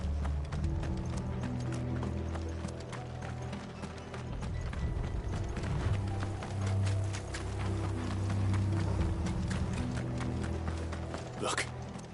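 Horses' hooves clip-clop in a steady rhythm with creaking, rattling cart mechanisms, moderately close, under a tonal music score with occasional voices.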